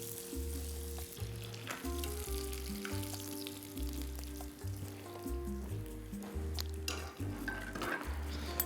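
Sea bass fries in a pan with a steady sizzle throughout, joined by clinks of utensils and pans and a tonal hum from the kitchen, with no speech.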